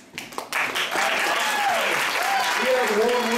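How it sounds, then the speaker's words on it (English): Audience applause for a guitarist at a live band concert, building quickly into sustained clapping with whoops and cheers mixed in, loud and close. "everybody give a round of applause for our guitarist over here"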